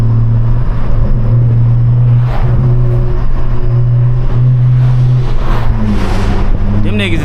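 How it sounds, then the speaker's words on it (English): A stolen 600hp BMW engine drones loudly and revs in long sustained pulses while accelerating on a highway, dominating the cabin with a strong, steady low growl. "That's what my car be sounding like."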